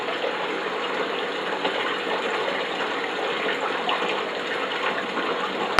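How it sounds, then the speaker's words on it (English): Water being blown out of a boat's main tank makes a steady, hissing gush that runs without break at even loudness, close and alone, with a faint constant hum behind it. "So I'm actually blowing out 2 gallons of water at the moment out of the main tank."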